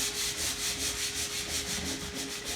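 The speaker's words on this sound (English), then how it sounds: "we basically start sanding" Power sander working across timber to strip the top coating back to clean wood, a steady close whirring hum with a rhythmic swishing pulse as the pad moves back and forth.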